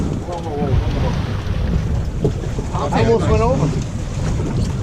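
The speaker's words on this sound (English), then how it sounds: "you can also hear a little more wind in the background" Wind blowing across a fishing boat at sea off Montauk, a steady rushing roar with buffeting gusts, while someone speaks over it.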